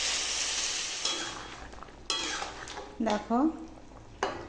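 Ridge gourd and potato being stir-fried in a pan, a soft sizzle broken by several sharp scraping and clinking strokes of a spatula against the pan, with a brief spoken word.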